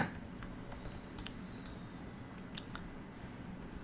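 Fingers type a query into an online shopping search box on a computer keyboard, giving a short, faint burst of irregular light key clicks over a steady low background hiss.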